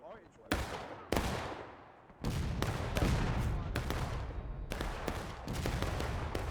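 Musket volleys in the American Civil War game War of Rights fire as sharp, loud cracks, a few separate shots followed by near-continuous overlapping fire from several directions.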